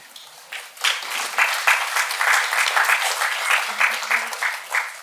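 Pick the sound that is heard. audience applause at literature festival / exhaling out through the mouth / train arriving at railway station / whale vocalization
audience applause at literature festival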